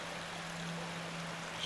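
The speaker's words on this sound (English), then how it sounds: "Here's more of the stream." A stream flows through the town of Srebrenica, giving a steady, quiet, continuous rush of water with a faint low hum beneath and no voices.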